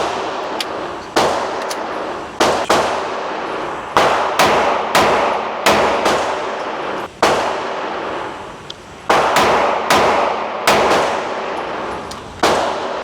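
Handgun shots ring out at a target about 7 yards away, a dozen or so loud sharp reports in an irregular rhythm, each with a brief ringing decay, some fired in quick pairs.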